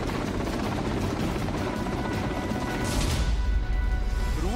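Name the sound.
Russian KA-52 attack helicopter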